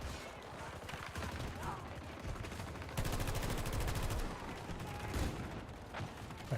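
Turret gunfire in a video game, rapid bursts of automatic shots rattling close and loud, a dense stretch of fire in the middle, with a voice talking over parts of it.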